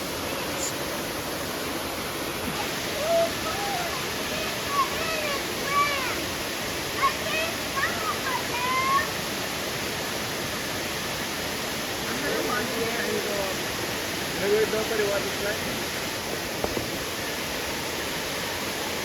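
Steady broadband roar of a waterfall in Belize fills the whole stretch, with faint voices and scattered chirps poking through now and then.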